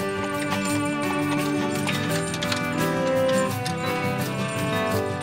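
Horse hooves clip-clop steadily as a horse walks into a vineyard in place of a machine, a continuous rhythmic patter beneath a loud, dense layer of music that plays throughout.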